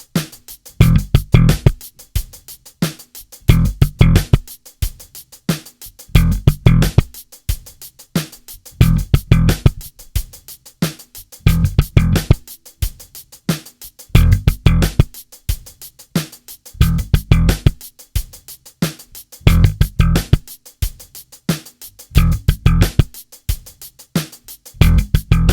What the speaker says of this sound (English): Let's hear that exercise with the drum track.